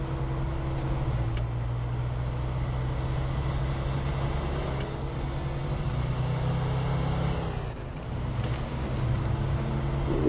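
A heavy truck in the snowy Alaska setting of SnowRunner drones with a steady low engine hum that rises and dips slightly as it slides and loses grip, continuous and close, with no voices.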